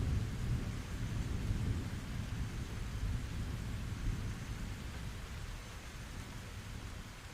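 Steady rain with rolling thunder, a dense even wash of downpour and low rumble holding at a constant level throughout, no voices.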